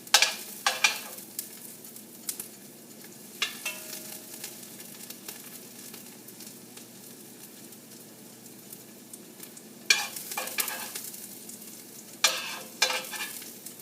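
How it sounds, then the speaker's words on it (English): Beef tips searing in a hot pan give a steady low sizzle throughout, with louder bursts of frying and stirring scrapes near the start, around the middle and toward the end; no one speaks. "I'm just going to get a little bit of nice sear to my meat"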